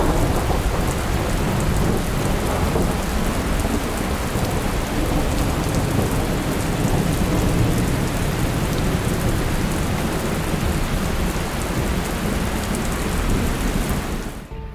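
A Virginia thunderstorm brings heavy, steady rain and rolling thunder, loud and unbroken throughout before it cuts off abruptly at the very end.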